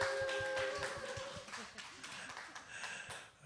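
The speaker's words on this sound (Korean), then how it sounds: "우리 민진이를 축복한 우리 박수 한번 칩시다" Congregation at a Friday night church service claps together, a brief burst of scattered applause fading into quiet room tone.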